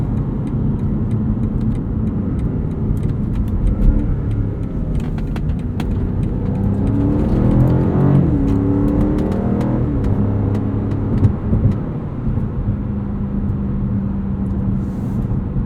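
A 2022 BMW M5 CS driving, its engine a loud, steady close rumble that rises and swells around the middle as it accelerates, then settles back into a sustained drone with no voices.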